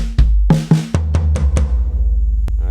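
A drum fill substitutes a bass drum kick for a hand stroke, with a quick run of close tom and snare hits mixed with deep kicks, then a final hit and ringing decay.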